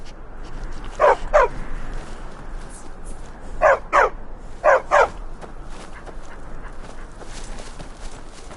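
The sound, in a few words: dogs barking in a video game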